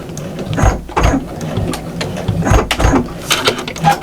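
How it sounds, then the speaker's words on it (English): A sewing machine back stitching through cushion fabric, quick bursts of mechanical whirring and clicking that start and stop several times, close and alone. "I'm going to just back stitch there just to hold that."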